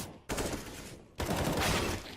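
Gunfire rings out during a competitive CS:GO esports match, two dense bursts of rapid shots, the second louder and longer, crackling up close.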